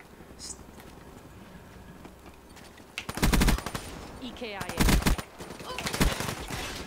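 Automatic gunfire in Black Ops 3 breaks out in loud rapid bursts, near and punchy, following a quieter stretch of gameplay noise.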